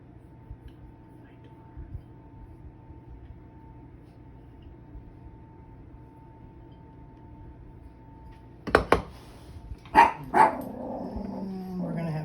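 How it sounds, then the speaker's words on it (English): A dog barks in the background of a home kitchen where pizza is being made, a few sharp barks and a growl near the end after a long stretch of low room hum, moderately loud. "Dog barking in the background because that's always fun."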